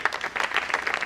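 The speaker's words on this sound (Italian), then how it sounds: "facciamo un grande applauso, Rossella, al vicepresidente" An audience applauding at a regional event in Rionero, Basilicata, a brief dense patter of many hands clapping at a steady moderate level.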